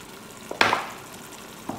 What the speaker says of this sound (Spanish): Y rehogamos.